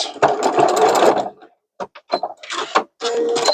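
A sewing machine back stitches the seam of a fuzzy zipper pouch in short, loud, close bursts broken by brief silences.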